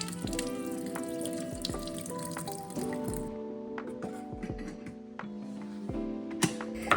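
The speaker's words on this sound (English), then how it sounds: "I rinse my rice 2 to 3 times until the water runs clear" Rice rinsed under running water in a home kitchen, with trickling and dripping, wet grains squishing and swirling, and occasional clinks against the bowl, moderately close and steady throughout.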